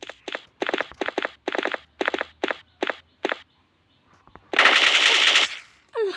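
Automatic gunfire in Call of Duty Mobile rattles in about ten short, sharp bursts, then after a brief pause one longer sustained volley, loud and close.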